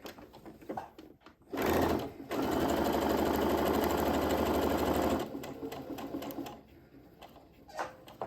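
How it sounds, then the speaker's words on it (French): Brother Innovis F420 sewing machine fitted with a standard size 80 needle at 2.5 stitch length, running a steady loud burst of rapid stitching for about three and a half seconds, with quieter handling noises before and after. "J'ai toujours ma machine à coudre, la Brother Innovis F420"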